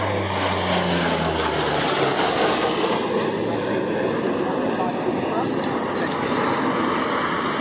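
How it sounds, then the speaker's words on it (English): Royal New Zealand Air Force C-130H Hercules taxiing at Hood Aerodrome, a loud, continuous turboprop roar close by with a low droning hum at first that fades into a steady broadband rush. "The Royal New Zealand Air Force have used these aircraft around the world and continue to."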